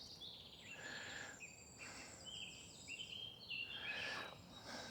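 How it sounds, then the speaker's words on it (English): Birds singing in the New Forest, several chirps and whistled phrases at moderate distance over a quiet, faintly hissing outdoor background. "Birds everywhere."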